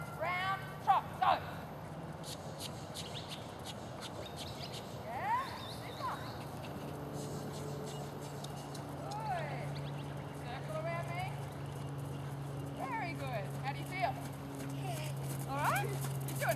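A large horse trots under a rider during a dressage schooling session, its faint hoof clip-clops steady beneath a trainer's near, ongoing spoken instructions and low background rumble.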